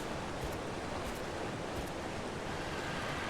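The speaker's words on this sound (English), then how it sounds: "That's a big old waterfall." A large waterfall in the video game Ark Survival Ascended, on The Island map, gives a steady, dense rushing roar that holds at an even level throughout, with no talking.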